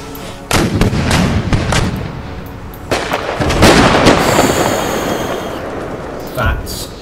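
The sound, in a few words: artillery firing shrapnel in Empire: Total War video game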